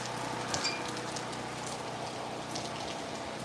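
Rain pours steadily outdoors in Santa Cruz, Jamaica, making an even, close hiss of drops striking surfaces with occasional louder splatters and no voices.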